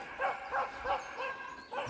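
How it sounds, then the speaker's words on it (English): Two dogs bark in a run of roughly five evenly spaced woofs, fairly close and loud over an outdoor background. "And two dogs absolutely going mad."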